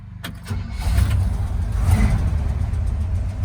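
A 1972 Chevy C20 truck engine catches and runs, rising into a loud rev as it pulls away, close and alone with no talking.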